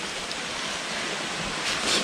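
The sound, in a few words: waterfall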